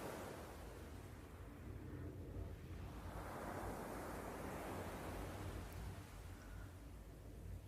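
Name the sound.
sea waves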